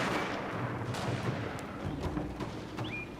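Guns fire steadily at enemies climbing the walls in a video game about conquering Japan, a dense barrage of overlapping shots and thuds at moderate level.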